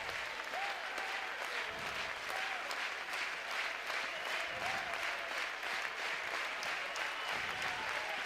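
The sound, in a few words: Ole Miss baseball crowd cheering and applauding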